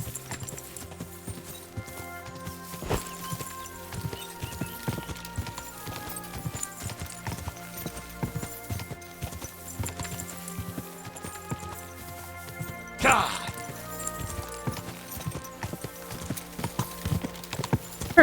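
Horse hooves clip-clop steadily from a ridden horse in the medieval video game Kingdom Come: Deliverance II, their rhythmic beats mixed with game music and ambience, with a brief louder burst partway through.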